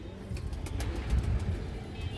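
A female Sabji pigeon of an old Giribaz line coos close by, low repeated calls over a continuous background hum with a few faint clicks.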